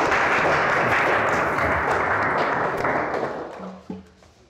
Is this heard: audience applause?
yes